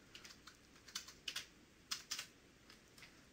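A file name being typed on a computer keyboard, about a dozen light, quick keystrokes in short uneven bursts, soft and close in an otherwise quiet room.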